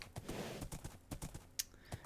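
Horse hooves in the Minecraft video game: a faint, quick series of clip-clop steps in an irregular rhythm, quiet and close.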